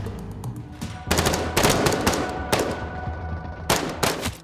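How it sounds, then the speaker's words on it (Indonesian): Gunshots in an action film scene, several loud booming reports in a rapid uneven burst with rumbling tails between them, no speech. "Pyro yang dianggap hanya sebuah mamala atau beban dengan kejam ditembak Don saat itu juga."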